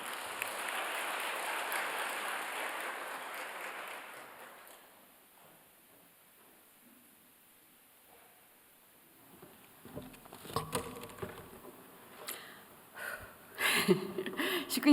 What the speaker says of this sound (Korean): 나오실 때 큰 박수로 환영해 주십시오.